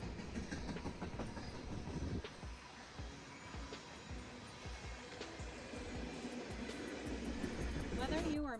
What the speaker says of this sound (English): the noise and possible vibration of trains passing by